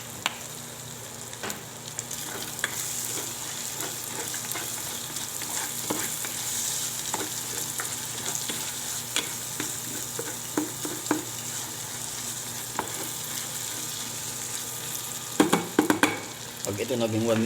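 Beef frying in a little oil for papaitan, a close, steady sizzle with frequent scraping and tapping of a utensil stirring in the pan, louder clatter toward the end.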